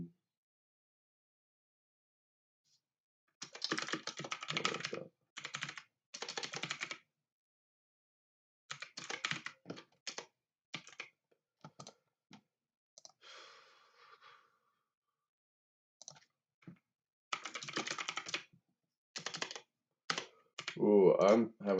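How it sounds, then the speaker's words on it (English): Bursts of clicky typing on a computer keyboard with tall, high-set keys, coming in short irregular clusters separated by pauses, with a breath or sigh near the end and no talking over it. "I'm having trouble getting used to this keyboard. The keys are so high up."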